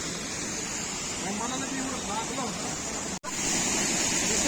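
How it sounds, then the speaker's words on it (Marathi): Rain falls near Panshet dam as a steady, dense wash of noise, close and even, with faint voices underneath and a brief dropout near the end. "पाऊस पण पडतोय आणि त्यात पाणी झाले गडूळ झाले"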